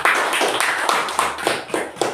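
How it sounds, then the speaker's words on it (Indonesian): Applause from a classroom group after a presentation, a dense patter of many hands clapping at close range, steady and lively throughout with faint voices mixed in. "Kasih aplaus."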